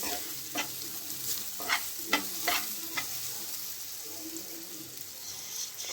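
Spiced egg stuffing with chili powder is stirred in a pan over a steady sizzle, with a spatula scraping in several quick strokes throughout.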